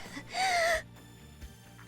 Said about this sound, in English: her disconcerting heavy breathing is testament to her indoor habits